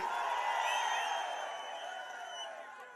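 A large crowd cheering and roaring at an AIADMK political rally in Hosur for Edappadi Palaniswami, a dense, distant-sounding wash of voices that holds steady and fades slightly.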